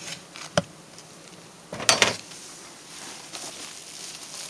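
Honey bees buzz around an insulated beehive in a faint, steady drone, broken by a few sharp knocks and a louder clattering burst.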